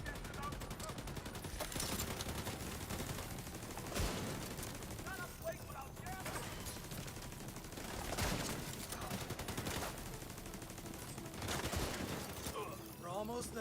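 Sustained automatic gunfire in The Division 2 rattles in dense bursts of rapid shots, with louder volleys recurring every few seconds amid echoing reports.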